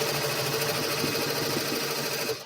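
A home embroidery sewing machine stitches slowly while held down, giving a steady, close, continuous mechanical whir with a fast repetitive needle rhythm that runs throughout and cuts off at the end.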